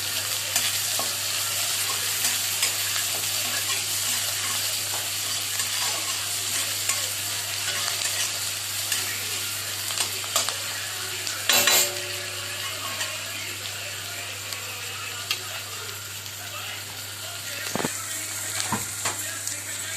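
Onions fry in a pan of oil as the base for a Katla fish curry. A steady, even sizzle runs throughout, with a few scrapes and clicks of stirring and a constant low hum underneath.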